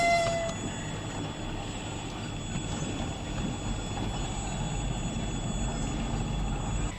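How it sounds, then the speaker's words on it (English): A slow train rolls past in a very rural part of Russia on a rainy day, a steady low rumble holding even and fairly loud throughout, with no voices. "we get to experience the slow train"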